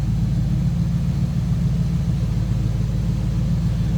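A 1938 Ford Deluxe convertible street rod idles with its engine and muffled exhaust, a smooth, steady low rumble that holds evenly and close throughout, with no voices.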